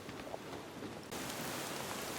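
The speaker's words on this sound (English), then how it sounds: "the rain isn't stopping" Steady rain falls at a dispersed car campsite as a soft, even hiss, quiet and continuous, growing a bit denser partway through.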